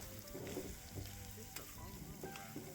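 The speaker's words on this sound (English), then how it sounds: "Fry off all your ingredients." Ingredients for Hawaiian smoke meat fried rice fry in neutral high smoke point oil in a wok, a quiet crackling sizzle broken by occasional scraping and stirring clatter.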